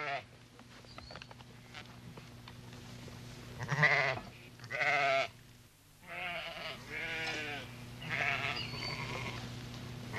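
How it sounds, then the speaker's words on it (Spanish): Sheep flock bleating at dawn on a high plateau at 2,600 metres in the Moroccan mountains, several overlapping calls rising in bursts over a steady low rumble, moderately close. "salen los rebaños de ovejas entre las 6:30 y las 7"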